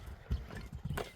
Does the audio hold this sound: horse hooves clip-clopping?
yes